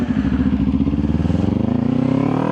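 A motorcycle engine revs and passes close by, its loud rising drone running right alongside a car, an Audi S3, for a couple of seconds.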